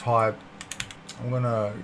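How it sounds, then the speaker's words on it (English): A quick burst of clicky keystrokes on a ROCCAT Vulcan 121 AIMO RGB mechanical gaming keyboard, close and fairly quiet, set between short stretches of a voice at the start and end. "we're gonna just type Robert Sebastian Lukas"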